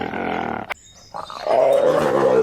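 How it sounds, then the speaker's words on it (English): A lion gives a deep, rough roar close up, a brief growl followed by a pause and then a louder, sustained roar that fills the rest of the clip. "lion"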